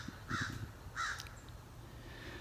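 Two harsh crow caws about half a second apart ring out at moderate distance over low outdoor rumble near a chicken yard, with no talking.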